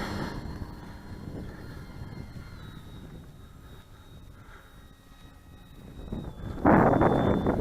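An Avios Grand Tundra RC airplane flies in wind, its motor giving a thin, wavering whine over rumbling wind buffeting on the microphone, with a loud gust of wind roar near the end.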